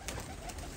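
Large Sialkoti pigeons coo in a cage, a short low throaty coo heard close and clear.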